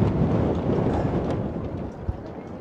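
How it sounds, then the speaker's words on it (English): Wind blows hard across an exposed outdoor spot, a loud steady rumbling gust buffeting the microphone, with one brief thump near the end and no talking. "It is windy up here, as always."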